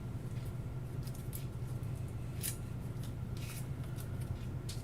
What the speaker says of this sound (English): Now let's shuffle the hit location deck.